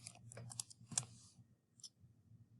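Quiet, light keyboard typing as a word is entered into a digital sticky note: a quick cluster of soft clicks, a pause, then a couple of stray taps.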